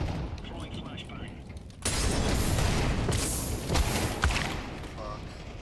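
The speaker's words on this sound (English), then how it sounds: "Throwing grenade. Throwing flashbang. Throwing smoke. Deploying flashbang." Grenade and flashbang blasts in a first-person shooter match crash through as a sudden heavy burst of explosive noise after a quieter stretch, followed by further booms and scattered gunfire.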